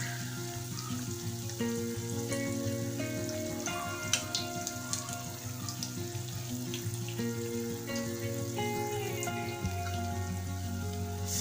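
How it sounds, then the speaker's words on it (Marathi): Alu vadi, rolled colocasia leaf slices, frying in hot oil in a pan, giving a steady close sizzle and crackle throughout, with a tonal background beneath it and no talking. "ह्या वड्या आपण आता पलटून घेऊया दुसऱ्या बाजूला देखील ह्या तळल्या पाहिजेत"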